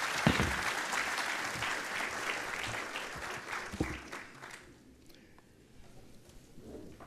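Applause from the audience at an international seminar on recall referendums, dense clapping that fills the room before thinning and fading out toward the end.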